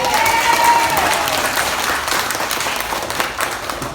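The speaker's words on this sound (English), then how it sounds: "let us give a good hand of applause for this country," Steady, full applause from a conference audience in the Philippines, loud and continuous throughout with a faint tonal whine briefly riding over the clapping early on.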